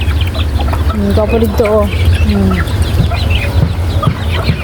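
Backyard chickens kept alongside ducks cluck in short bursts close by, with a voice speaking briefly over them and steady background noise.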